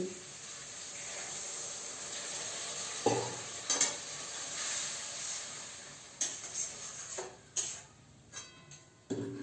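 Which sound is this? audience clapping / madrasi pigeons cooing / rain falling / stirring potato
stirring potato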